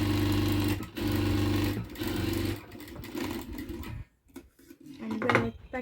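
Sewing machine running in steady bursts while stitching tucks into blouse fabric, close and loud, with short pauses and handling clatter before a quieter final stretch.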